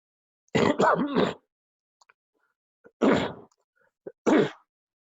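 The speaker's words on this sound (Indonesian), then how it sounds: "Saya batuk ya" Three throaty coughs in an otherwise quiet room: a quick cluster first, then two shorter single coughs a couple of seconds apart.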